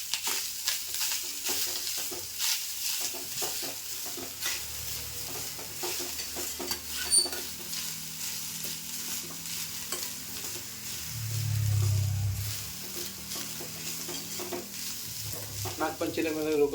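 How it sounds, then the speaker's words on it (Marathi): Grated fresh wet coconut sautéed in a pan for a Nagpanchami sweet, with a soft continuous sizzle and repeated scraping, clinking stirs of a spoon against the pan, close by and without talk. "आता मी खोबरं टाकते. खोबरंसुद्धा थोडंसं परतून घेते."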